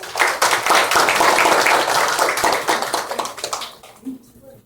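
At a philanthropy conference on CSR and CSV, an audience gives a warm round of clapping to welcome a panelist, loud and dense at first, then tapering off, with a brief voice near the end.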